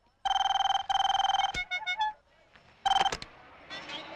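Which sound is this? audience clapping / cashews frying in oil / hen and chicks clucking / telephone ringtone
telephone ringtone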